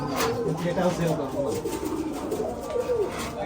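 Giribaz pigeons coo in a low, steady murmur, several birds overlapping close by with soft rustling and faint voices in the background.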